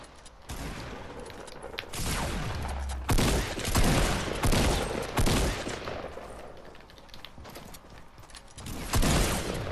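Rapid bursts of gunfire from the Fortnite battle royale video game, loud and close, with repeated volleys and short pauses running through the whole stretch.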